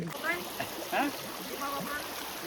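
Cold dam water gushes steadily from a motor-driven pipe at a riverside spot where people wash their hands, a continuous hiss under nearby voices.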